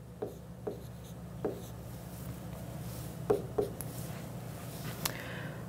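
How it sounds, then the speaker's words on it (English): A pen or marker writing out an equation on a board during a statistics lesson, a few short scratchy strokes and taps spread over a low steady hum, with no speech. "I'm going to write this way, and we'll talk about why in just a moment."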